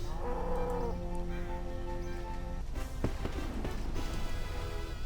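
Cows low in the video game RuneScape 3, one drawn-out moo followed by a second, over a constant background hum and a few soft thumps.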